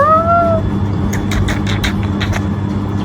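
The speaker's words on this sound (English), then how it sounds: "I have to show you my cat." A small cat meows indoors: a couple of short rising-and-falling meows at the start, followed by softer scattered chirpy sounds over a low background hum.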